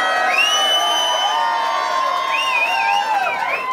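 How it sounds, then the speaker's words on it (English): A large crowd at a cycling race roars and cheers for Peter Sagan, a steady, loud wash of voices with high whoops and shouts rising above it throughout. "It's great to have the roar of your fans"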